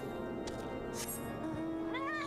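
Cat meows in a Final Fantasy video game, a short rising call near the end of the clip, faint over a low steady game backdrop with brief clicks.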